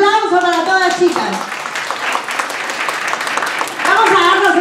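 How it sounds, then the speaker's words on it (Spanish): An audience of women at a sales workshop claps and cheers for a few seconds, a mid-level burst of applause between stretches of someone talking at the start and end. "Un fuerte aplauso para todas, chicas."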